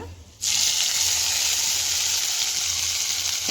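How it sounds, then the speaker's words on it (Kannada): A sudden loud sizzle bursts in after a brief quiet moment, then hisses steadily and strongly as a hot tempering is poured into red dosa chutney. "ಮಾಡಿಕೊಂಡು ಈ ಒಗ್ಗರಣೆನ ಇದಕ್ಕೆ ಸೇರಿಸ್ಕೊಳ್ಳೋಣ."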